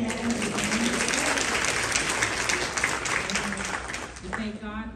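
A congregation applauds during a home-going funeral service, a dense, steady clapping that fills the space while a voice speaks over it, then thins out near the end.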